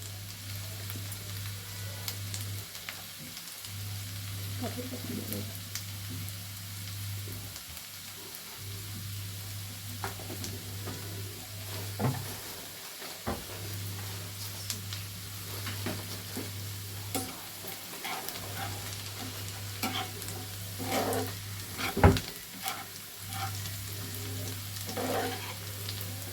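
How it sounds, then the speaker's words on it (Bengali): Steady sizzling of onions frying in a pan, with scraping and stirring sounds, a constant low hum, and occasional clinks. "পেঁয়াজটা কিন্তু একটু ভাজা ভাজা হয়ে এসছে"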